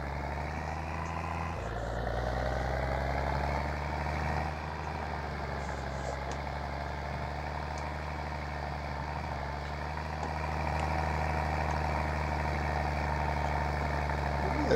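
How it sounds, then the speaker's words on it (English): Farm tractor engine running steadily on a farm track, a loud continuous low diesel rumble with a slight shift in tone midway, heard alone without talk. "This tractor, since we've had it, been pretty good."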